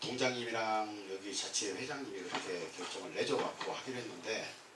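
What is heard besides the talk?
No everyday noises stand out.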